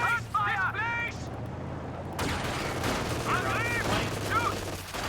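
Armored car gunfire in a video game: rapid bursts of shots with broadband cracks over a steady engine hum, while voices speak in bursts throughout.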